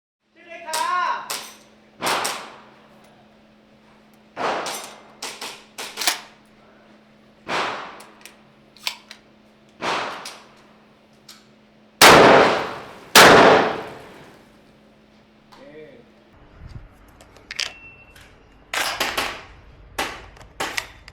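A Saricam SS-4 shotgun is fired at an outdoor range, with about eight or nine sharp, loud reports spaced a couple of seconds apart, each trailing into a short echo, and a voice speaks briefly between shots.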